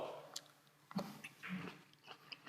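Someone bites into and chews a freshly harvested tomato, with soft wet munching and a few faint crunches close to the mic, mixed with quiet murmured sounds of enjoyment.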